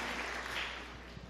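Faint, brief crowd applause at a church sermon, a soft patter of clapping that fades within a second or so.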